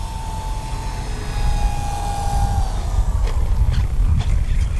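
FMS PA-18 Super Cub 1300mm RC model airplane in flight, its electric motor whining steadily and shifting in pitch as it passes, moderately near over outdoor wind noise, with a few brief thumps late on.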